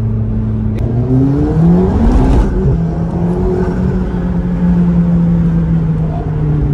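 A limited-edition turbocharged McLaren, one of eight built, accelerates on a wet road, the engine note climbing loud and close in pitch, then settling into a steady high drone with a faint whoosh of wind.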